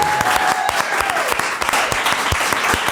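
A studio audience at a food podcast recording applauds a guest's arrival, lively steady clapping from a small crowd, with a faint voice beneath it.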